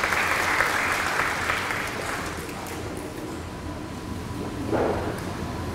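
A conference audience applauds to welcome a company managing director, dense clapping that starts full and gradually thins and softens, with a faint voice near the end.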